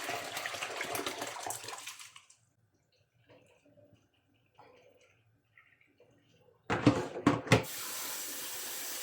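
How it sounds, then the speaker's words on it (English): Rice is rinsed in cold water in a pot for jollof rice, with bursts of splashing and sloshing at the start and again near the end, separated by a quiet stretch of faint clinks. "we wash the rice"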